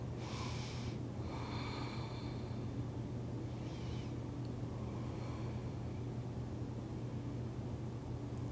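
A person breathes slowly during a yoga twist in a grounding vinyasa flow, with a few soft, airy inhales and exhales near the start and middle over a constant low hum and hiss.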